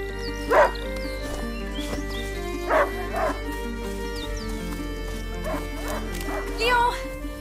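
A hunting dog barks in the video game A Plague Tale: Innocence, with three short bursts of barks and yips spaced out over ambient game sound, mixed with a voice speaking.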